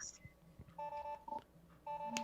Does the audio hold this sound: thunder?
no